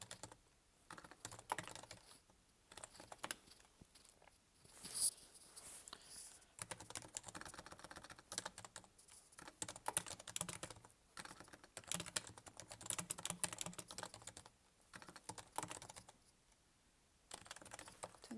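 Close, steady typing of code on a computer keyboard, with bursts of rapid key clicks separated by short pauses.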